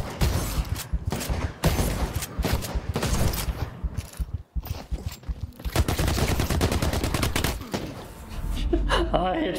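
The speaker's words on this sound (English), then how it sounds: "I hit 3 shots with a purple converter" Gunfire from a purple converter in The Cycle: Frontier, loud rapid bursts of shots close up, repeated throughout amid other combat noise and a brief gasp.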